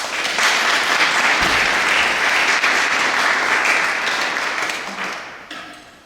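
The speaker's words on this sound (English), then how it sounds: "Give him a clap." An audience at an evening concert in St Woolos Cathedral, Newport, gives a sustained round of applause that fills the reverberant space, holds steady, then thins out and fades near the end.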